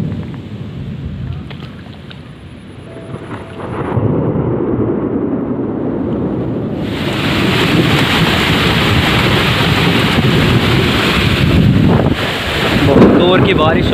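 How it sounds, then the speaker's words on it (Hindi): Heavy rain pours over open farm fields in a storm, a dense roaring hiss that thickens partway through and carries on steadily, with gusty wind buffeting the microphone and low rumbles mixed in. "बहुत जोर की बारिश आ रही है"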